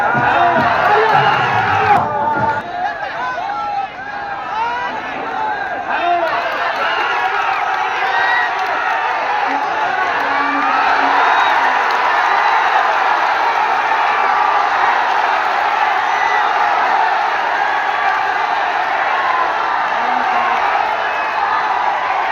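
Crowd at a wrestling bout roaring and cheering with scattered clapping, a dense steady wall of noise from start to finish with a brief lower rumble near the beginning.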